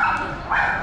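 A fluffy, mouthy Pomeranian gives two close, high yipping barks in quick succession at an outdoor spot in Torrevieja where people bring their dogs, with voices in the background.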